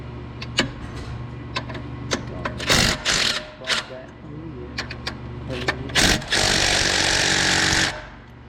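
Pneumatic impact gun in a car-tuning garage, firing in short loud rattling bursts with one longer burst near the end, mixed with clanks and people talking.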